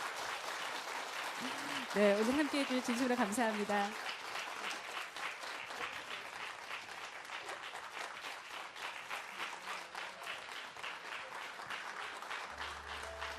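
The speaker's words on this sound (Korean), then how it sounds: "다시 한번 큰 박수 부탁드립니다." Audience applause at a Korean traditional music concert, sustained clapping from a crowd that begins under someone speaking, then continues alone and steady for several seconds.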